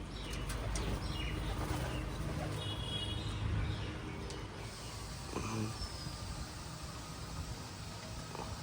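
Pigeons gathering to feed on scattered rice, with soft coos and brief chirps over a steady, noisy outdoor background, the birds fairly close and moderately loud throughout.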